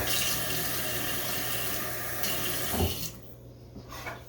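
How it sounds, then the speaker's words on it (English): Water runs and splashes steadily into a glass up close, then cuts off, leaving a few faint clinks and quiet handling sounds. "I just put a little bit of water in it"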